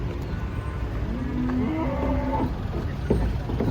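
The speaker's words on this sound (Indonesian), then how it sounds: "Kedatangan sapi super. Bersama temannya kambing." Large cattle, unloaded from a truck along with goats, give a few low, drawn-out moos over a constant background rumble, fairly close.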